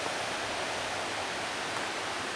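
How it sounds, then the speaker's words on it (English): A creek in Chattahoochee National Forest flows in a steady, even rush of water, broad and continuous, moderately loud with no voices. "So that's just another glimpse of the creek."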